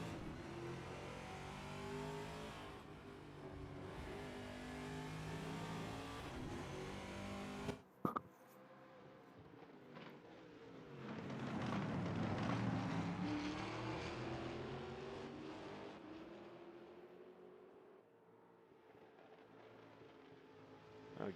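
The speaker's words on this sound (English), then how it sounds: "See that Cyclona having all sorts of problems getting the power down in that Mustang" Racing engines roar in a GT Club TA2 series round at Road America, including a Mustang struggling to put power down, rising and falling as cars pass; a brief sharp burst near the eighth second, then a loud swelling pass.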